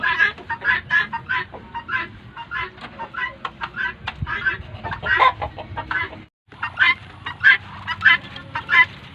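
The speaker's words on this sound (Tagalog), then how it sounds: "pakakainin naman natin yung ating mga bengala. Ayan, nag-iingayan na sila doon." A flock of guinea fowl breeders calls noisily before feeding, with loud, continuous overlapping harsh cackles and rhythmic chattering close by, briefly pausing once.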